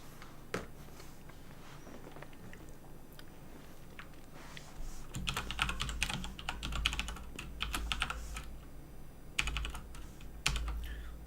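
Rapid keyboard typing at a computer during a game-engine coding session, sparse clicks at first, then dense bursts of keystrokes with brief pauses, close and clear with no talking.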